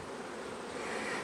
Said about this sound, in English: I think I'm gonna have to shake the bees off of this